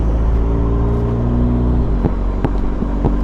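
A 398-horsepower car revving hard under acceleration, its loud engine drone rising and then broken by several quick, sharp gear shifts in close succession, heard from inside the cabin.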